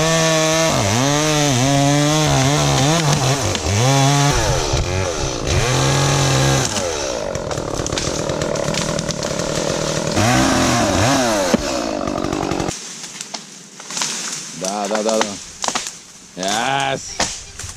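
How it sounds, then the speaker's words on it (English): A chainsaw cuts down a tree outdoors in Russia, its engine revving and bogging in repeated surges, loud and close, before the saw drops away near the end and faint voices and movement follow. "some Russian guy just came out of the bushes with a chainsaw and managed to cut the rest of the"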